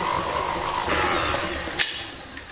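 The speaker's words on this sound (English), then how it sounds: "Use the pedal attachment for this and mix it about 1 minute on a low speed" Stand mixer with a paddle attachment beating sugar and butter on low speed: a steady, close motor whir with a grinding mechanical texture and a brief clack near the end, no voices.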